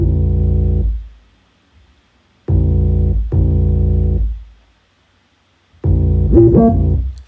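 Deep 808 bass pattern from a hip-hop beat, played alone in isolated sustained notes with silent gaps between them, loud and booming, the last note sliding in pitch.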